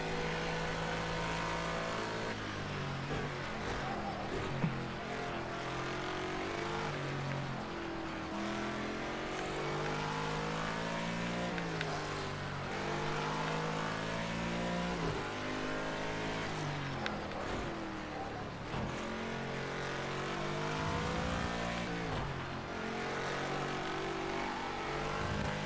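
A race car engine drones and revs steadily as it laps a track in a video game, its pitch climbing and dropping through gear shifts and corners, continuous and up close for the whole stretch.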